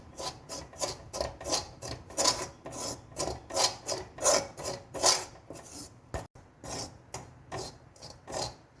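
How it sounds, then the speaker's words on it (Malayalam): Fenugreek and asafoetida powder are stirred in a pan, giving rhythmic scraping strokes that come in a steady series, faint and close, with no voices. "ഉലുവപ്പൊടി, കായപ്പൊടി എല്ലാം നല്ലതുപോലെ പച്ചമണം മാറുന്ന വരെ ഇളക്കി കൊടുക്കണം."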